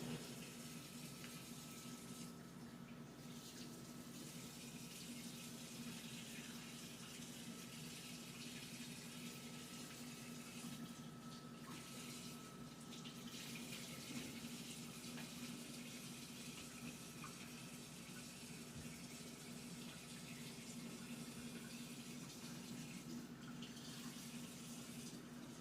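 Water runs steadily from a tap for rinsing, a faint, even hiss with a low hum beneath it that continues for the whole stretch with no talking.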